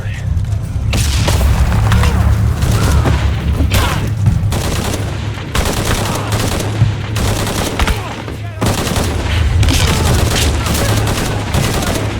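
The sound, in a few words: gunfire in the video game Shadow of the Tomb Raider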